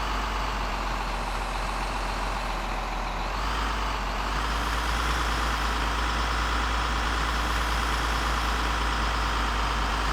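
A truck engine in Workers & Resources: Soviet Republic labours uphill, a loud, continuous droning rumble with a slight pitch shift midway, steady and close with no voices.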